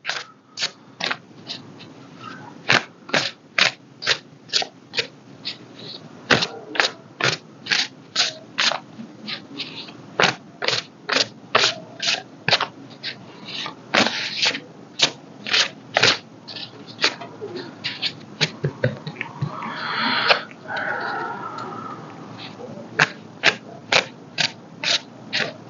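Tarot cards being shuffled by hand at close range, a long series of quick crisp riffling bursts in an uneven rhythm with brief pauses between them.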